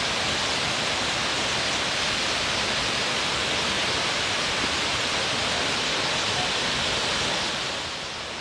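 Bamni waterfall in Purulia, a hill waterfall whose water flows into a green lake below, gives off a steady, dense rushing roar that holds even and then eases slightly at the end.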